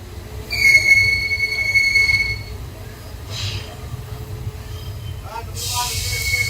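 The Karaikal–Bengaluru express pulls out of Omalur Junction with a steady low rumble, high wheel squeals ringing early on, then a hiss and rattle building as it gets moving; a voice talks over the scene.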